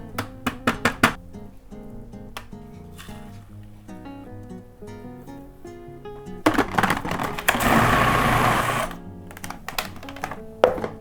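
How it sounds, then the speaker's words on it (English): A food processor whipping ricotta: a few sharp clicks and clatters first, then the motor whirs loudly for a couple of seconds before winding down into scattered knocks. "So we need a food processor for this."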